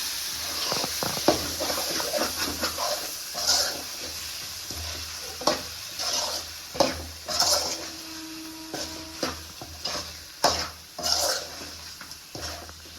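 Spicy chicken masala gravy simmering in oil in a pan, stirred with repeated scraping strokes over a constant close sizzle and bubbling, no voices.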